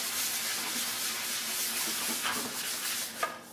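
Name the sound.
sanding a budget guitar's finish with sandpaper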